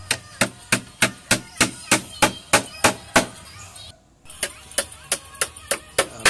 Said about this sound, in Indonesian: Kita kerjakan proses pemakuannya secara manual.